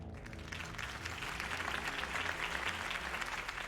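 A crowd breaks into sustained applause, a dense wash of clapping that swells and holds steady for a few seconds.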